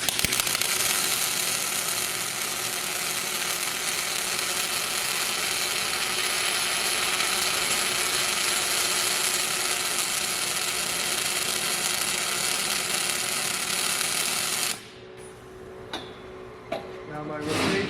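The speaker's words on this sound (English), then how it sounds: "I'm going to turn the arc on and run a weld cycle with the arc on" Orbital welder running a weld cycle with the arc on gives a steady mechanical whir and buzz for about fifteen seconds, then cuts off into quiet with a few small clicks.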